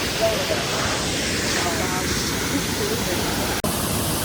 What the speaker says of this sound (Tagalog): Waterfalls.